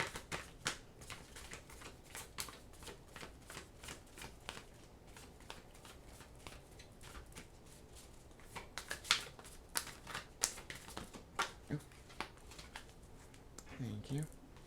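Oracle cards shuffled by hand, giving soft, irregular papery riffles and flicks over about fifteen seconds, close and fairly quiet, with a few sharper snaps toward the end.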